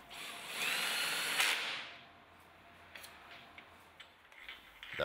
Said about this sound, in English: Of course, you can also use a power screwdriver.